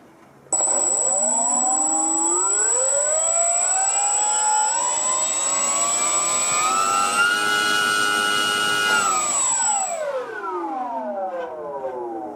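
The electric motor of a Dynam P-51D Mustang V2 RC plane, drawing 27 amps at full throttle, whines up quickly and holds a loud, steady, rising scream with a thin high tone, then spools down near the end.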